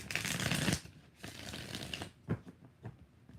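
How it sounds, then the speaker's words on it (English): Tarot cards are shuffled during a live reading: a loud, dense riffle first, then softer papery shuffles and taps close by, with no talk. "One more shuffle."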